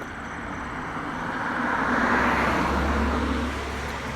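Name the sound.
car driving up a street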